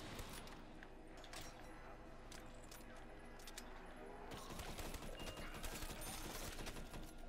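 Rapid machine gun fire rattles in sustained bursts in Black Ops III Zombies, dense and continuous with clattering mechanical overtones and faint background voices.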